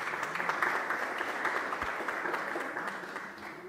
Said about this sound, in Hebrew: מגיע לו כפיים!